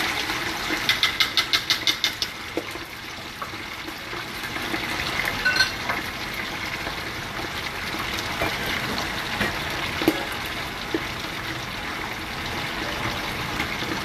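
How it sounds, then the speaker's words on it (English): Chicken wings sizzle and crackle steadily in hot oil in a fryer, a constant bubbling hiss with a few louder pops and splashes. "Let's just get them right in the fryer. That oil's hot"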